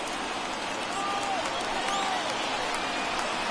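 Large baseball stadium crowd in MLB The Show 21 roars steadily as 39,000 fans stand, a dense continuous wash of cheering and applause-like noise throughout.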